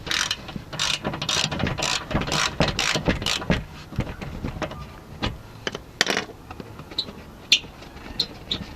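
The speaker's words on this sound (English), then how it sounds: "For these screws you will need a 10mm socket" A socket wrench ratchets screws on a Toyota Avensis D4D, giving rapid clicking bursts of pawl ticks in uneven runs, close and fairly loud.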